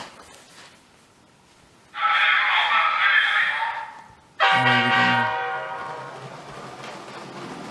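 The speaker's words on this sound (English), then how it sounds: "And then just send the train running again." A Lego City passenger train (set 60197) running on its track gives a hissing burst for a couple of seconds, then sounds a loud horn that slowly fades while it keeps running.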